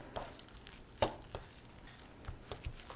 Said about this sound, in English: Now we're gonna mix this up and shape some patties